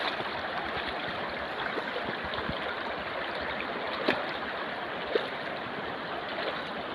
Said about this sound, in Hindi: काफ़ी बड़ी नदी है